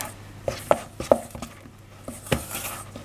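A ladle knocks and scrapes through thick chocolate brownie cookie dough in a mixing bowl, with a few sharp taps and softer scraping strokes spaced irregularly, close and fairly quiet.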